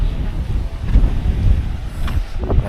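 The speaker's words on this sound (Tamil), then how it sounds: "காற்று இருக்கே அப்பா" Wind gusting at an outdoor vegetable market in Ooty, a low rumbling buffet across the microphone throughout, with faint distant traffic underneath.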